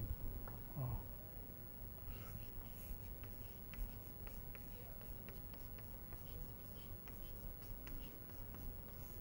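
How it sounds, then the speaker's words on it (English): Soft, steady scratching and tapping of writing on a board during an acoustics lecture, faint and continuous with small pauses, set against a low background hum and no talk. "let me write that right below"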